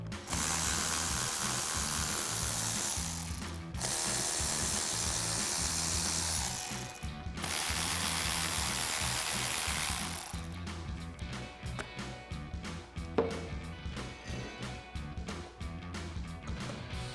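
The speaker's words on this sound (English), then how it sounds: "we're going to be using a T27 torque socket, and we have 3 bolts that hold on our blow-off valve" A ratchet fitted with a T27 torx socket loosens the blow-off valve bolts on a 2022-2026 Toyota Tundra. It makes long, loud runs of rapid clicking, broken by short pauses, then gives slower, uneven ratcheting toward the end.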